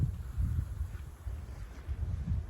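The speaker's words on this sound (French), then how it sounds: "donc on a du vent là." Gusty wind rumbles into the microphone outdoors in Doue as an unstable weather front passes, a steady low buffeting that rises and falls in short gusts.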